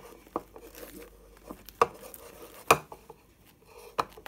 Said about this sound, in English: So, we're going to give it a mix.